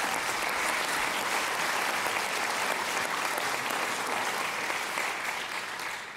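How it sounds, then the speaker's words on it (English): Sustained applause from an awards-gala audience honoring innovators at the San Mateo County Awards of Excellence, a dense, even roar of many hands that tapers slightly in the final moments. "I'd like to give them another round of applause from San Mateo County."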